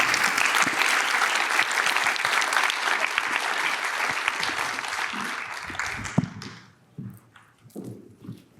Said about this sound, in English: I think round of applause for these panelists.